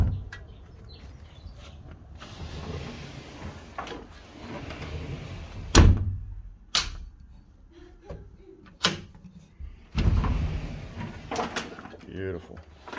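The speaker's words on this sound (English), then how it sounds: "It's another smooth sliding door." Glass sliding door moving on freshly replaced rollers, several soft rolling runs and knocks of the panel as it slides and stops, with people talking nearby.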